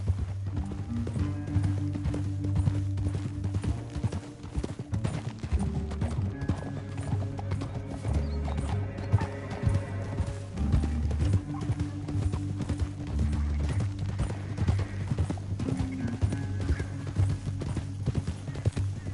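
Horses' hooves clip-clop at a steady run with an occasional whinny in Red Dead Redemption 2, set against a continuous low drone of game music.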